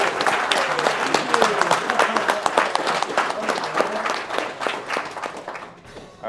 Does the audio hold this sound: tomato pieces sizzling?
no